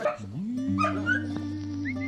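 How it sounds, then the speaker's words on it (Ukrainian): A small dog barks and whimpers outdoors at night at a hedgehog, giving a few close yips and whines, with a sustained whining tone and a person's voice faintly present. "Собачка гавкає."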